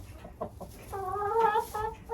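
Hens clucking in short repeated bursts, close by, as they are carried to a new enclosure; no one talks over them.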